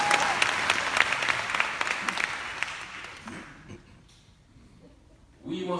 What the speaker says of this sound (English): Clap it out to Serena.